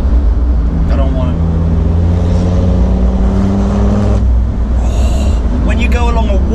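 Land Rover Defender Td5 diesel with a Stage 2 remap, engine droning loud and close as it pulls, pitch rising then easing, with cabin rumble throughout.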